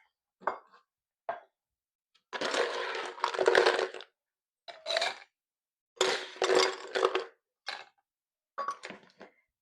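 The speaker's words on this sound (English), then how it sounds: "And then you are going to add ice to this." Ice cubes dropped and scooped into a cocktail shaker for a coconut milk amaretto punch, several separate bursts of clattering, clinking cubes against metal with silent gaps between, close and without speech.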